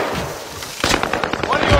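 Gunfire in a battle royale video game crackles in rapid bursts, the shots starting a second in and continuing in quick repeated pops over a loud, busy game background.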